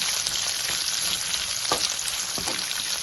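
Sliced onion and curry leaves sizzle steadily in hot oil in a pan, a dense crackling fry that stays loud and even throughout, with a few sharper pops and no voices.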